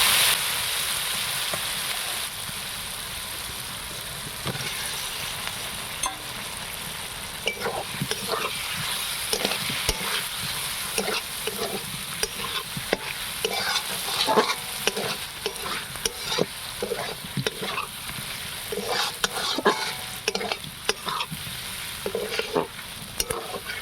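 Fried potatoes are stirred into a thick spiced masala for an egg and potato curry, a continuous soft sizzle broken by repeated scraping and stirring strokes of a spoon against the pan.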